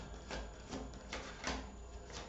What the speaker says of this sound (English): So while I'm shuffling, waiting for a card to play out